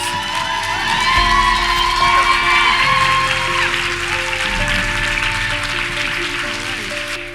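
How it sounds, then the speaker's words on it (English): An audience applauds and cheers for a guest speaker named Angela at a live talk event, with steady, sustained clapping and whoops filling the room for several seconds. "can we give her a huge round of applause?"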